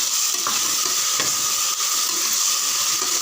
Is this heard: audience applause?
no